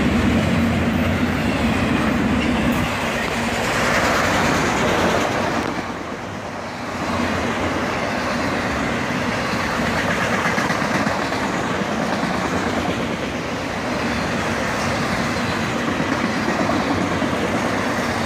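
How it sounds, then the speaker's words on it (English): A fully loaded CSX autorack freight train rolls past heading north at dusk, a loud, sustained rumble of wheels and cars with a steady rhythmic clatter that continues unbroken close by. "This fully loaded autorack train has the Highball North."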